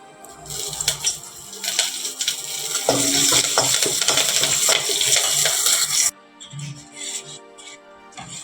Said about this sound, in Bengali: এই দেখো পেঁয়াজ, রসুন আর কারিয়া পাতা ভেজে নিয়েছি, এবার ডালটা ছেড়ে দেবো।